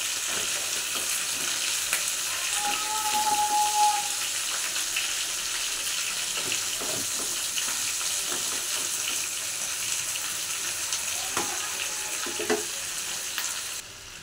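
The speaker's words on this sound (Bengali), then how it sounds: "আলু পেঁপেটা ভাজা হচ্ছে" Diced potato and papaya fry in a pan with a steady, moderate sizzle and soft crackle, punctuated by occasional stirring clinks, no one speaking.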